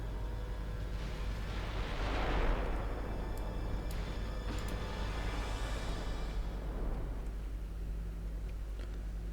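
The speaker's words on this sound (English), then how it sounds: "Another torpedo hit." A torpedo strikes a warship in the naval battle game Ultimate Admiral Dreadnoughts (NAR Mod), giving a broad, rumbling blast that swells to a peak early on and then rolls away into a steady low engine and sea drone.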